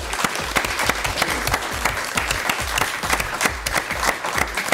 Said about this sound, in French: Merci de l'applaudir et de l'accueillir